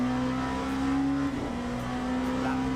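Race car engine in the Le Mans Ultimate racing game: a loud, steady high-pitched engine drone with a brief dip in pitch, as if shifting, then holding on.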